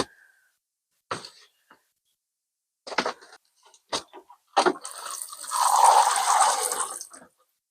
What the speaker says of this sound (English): So now I'm just going to water these.